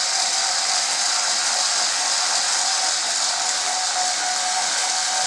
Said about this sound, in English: If you hear your screwdriver